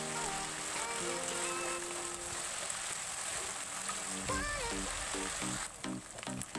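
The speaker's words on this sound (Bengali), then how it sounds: "মশলাটাকে ভালোভাবে ফ্রাই করে নিতে হবে।" Onion and garlic masala frying in oil for a Bengali pabda fish curry, a continuous sizzle beneath steady music, with an occasional stir scraping the pan.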